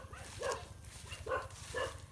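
A nursing dog barking outside a rural village house by a roadside, three short separate barks at moderate distance over a low background hum.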